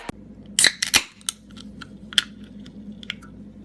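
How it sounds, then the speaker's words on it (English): A soda can is opened with a sharp metallic click and crack, followed by a few scattered snaps and ticks against a quiet background, no voices. "Soda can opening sound?"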